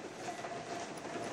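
Train-like rattling heard inside the horror video game Layers of Fear 2: a steady rumbling clatter with a faint tonal whine, continuous and moderately loud, with no voices over it.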